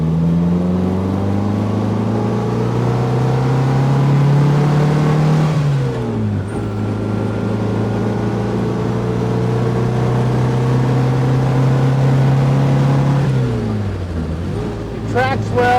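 A 1957 Morgan Plus Four drophead cruises in fourth gear, its engine droning loud and steady throughout, easing off briefly twice before pulling on again, with no talk over it.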